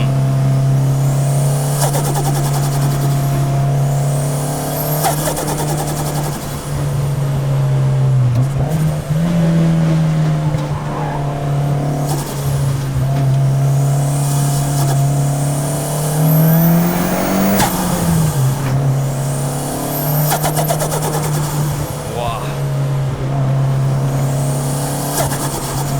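A fully built Mitsubishi Lancer Evo V drives up a winding mountain touge road, its engine droning loud and steady from inside the car with repeated rises and falls in pitch as it accelerates through corners.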